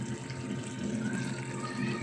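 Water poured into a pan of sautéed mixed vegetables seasoned with salt, fish sauce and pepper, a steady close trickling and bubbling stream without pause.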